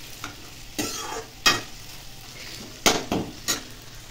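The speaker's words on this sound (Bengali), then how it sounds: "আর এদিকে আমি ভাত ভাজার জন্য আলু ভাজা বসিয়ে দিয়েছি" Potatoes fry in a pan, a low sizzle under several sharp scraping bursts as a utensil stirs and scrapes the pan at irregular intervals, with no voices.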